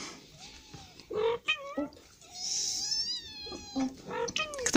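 Kittens meow in a series of thin, high, wavering cries, close and moderately loud, with brief pauses between calls and faint handling noise.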